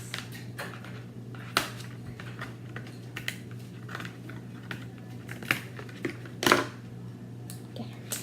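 A Monster High Scarily Ever After Threadarella doll is cut free of her box: irregular close snips, clicks and plastic crinkles, with one louder scratchy burst near the end, over a steady low hum.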